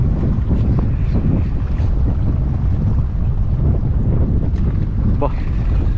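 Strong wind buffets the microphone in steady gusts over open water during a jigging fishing trip at sea, with splashing waves and faint voices mixed into the roar.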